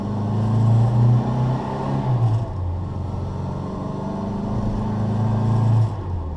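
A Classic Morris Mini's 998 engine hums steadily at low revs while driving, with a slight rise and fall in pitch, close up and continuous, with no talking.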